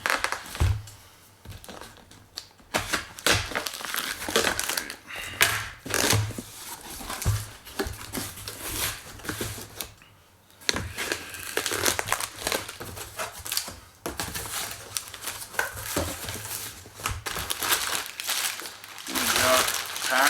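Hands open a well-taped box of parts shipped from Japan and dig through crumpled Japanese newspaper packing, making close, loud crinkling and rustling in irregular bursts with brief pauses, while people talk over it.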